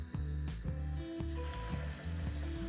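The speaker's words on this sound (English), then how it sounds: "Fry skewers until golden and crispy." Sausage and potato skewers frying in hot oil in a pan, a continuous soft sizzle under a repeating mechanical clicking rhythm about every half second.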